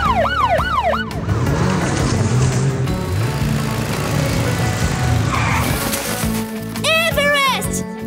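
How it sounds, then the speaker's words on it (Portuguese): A wailing drone siren rises and falls at the start and again near the end, amid busy, noisy action with voices talking over it. "Siga a sirene do drone!"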